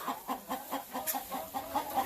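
Hens cluck in a steady, rhythmic series of soft pulses about four per second, fairly close and moderately quiet, inside a backyard coop in Oklahoma, with no talking over them.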